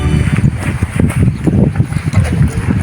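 Wind gusts buffet the microphone outdoors at a cemetery, producing loud, uneven low rumbling bursts that rise and fall in quick succession.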